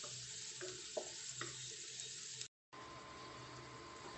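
Garlic and onion sauté in a pan for a Filipino eggplant and scrambled egg dish, giving a steady close sizzle with a few scrapes of stirring, then a short break before the frying hiss resumes.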